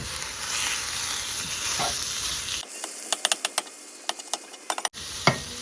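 Plant-based Beyond Burger meat browns in a pan with a steady, fairly quiet hiss, then the sizzle drops away into a run of light clicks and taps, with a faint scrape near the end.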